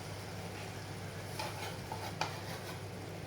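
Beef and parsley sizzle in a pan with a steady, quiet frying hiss, broken by a few soft stirring scrapes and one small clink near the end.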